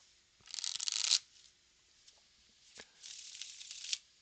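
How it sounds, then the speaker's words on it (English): Two bursts of playing cards being riffle-shuffled, a rapid fluttering rush followed by a softer second shuffle after a brief pause, close by. "let's go ahead and give this an inaugural shuffle."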